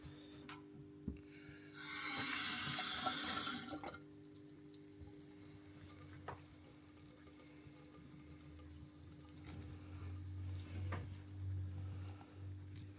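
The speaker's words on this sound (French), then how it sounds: "Et ce prince boit au robinet." Water runs from a tap while a luxury house cat drinks straight from it. A brief, fairly loud gush of running water comes in the early seconds. After that it is near silent apart from faint drips and a low hum.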